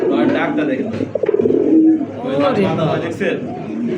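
A pair of jet-black racer pigeons cooing in a breeding loft, soft close coos rising between stretches of someone talking over them.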